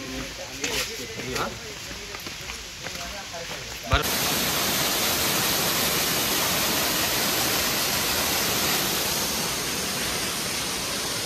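Water pours down stone steps at a hilltop temple path near Khandala, a loud steady rushing wash that begins abruptly and continues unbroken; a voice speaks briefly before the flow dominates.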